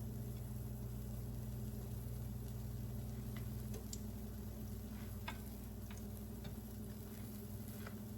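Puff puff dough frying slowly in oil over medium-low heat, a faint, even sizzle with scattered small crackles and ticks, quiet and continuous.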